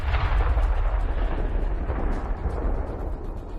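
Ukrainian tank firing on a Russian tank in close combat, a heavy rumbling blast with a sustained roaring low boom that rolls on without speech.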